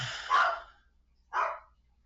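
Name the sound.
dog barking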